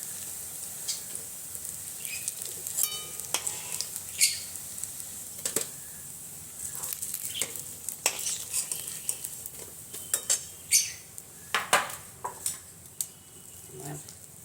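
Cauliflower fritters fry in a pan with a soft sizzling hiss, while utensils clink and scrape intermittently as the fritters are lifted out, close and fairly quiet.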